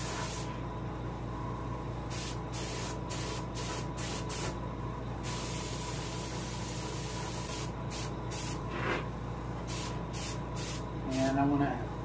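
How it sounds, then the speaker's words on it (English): Bursts of spray paint hiss in short repeated passes as an airbrush-style sprayer colours a largemouth bass taxidermy mount, close and fairly quiet, with a steady low hum beneath and brief pauses between passes. "And I'm going to angle spray from the top, well, from the frontal angle."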